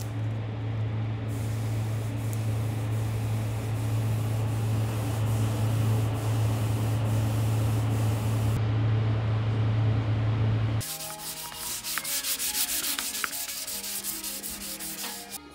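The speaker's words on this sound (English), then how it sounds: "Let's hope we don't have to do any more sanding." Continuous rubbing of sandpaper by hand over primer on a Honda VFR800FI motorcycle part, a steady scratchy hiss with a low hum behind it, shifting in texture partway through.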